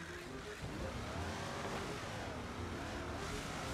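A Lamborghini Diablo engine in a racing game drones steadily and quietly, a constant low rumble of acceleration held through the whole moment with no talk.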